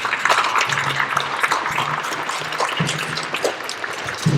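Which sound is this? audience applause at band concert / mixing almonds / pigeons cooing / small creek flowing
audience applause at band concert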